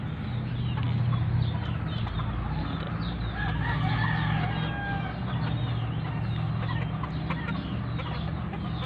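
Four-month-old stags, young roosters on a farm, crow and cluck continuously, several birds overlapping close by over a steady bed of farmyard noise.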